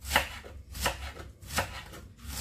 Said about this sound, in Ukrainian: Нарізаю не дуже тонко і не дуже тонко. Середньо. Ось такими смужками.